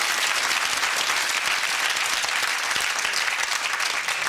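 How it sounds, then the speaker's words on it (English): Studio audience applause on a UK TV game show, dense continuous clapping filling the whole stretch at steady loudness. "Give them a round of applause."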